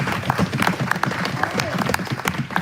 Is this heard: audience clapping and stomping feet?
yes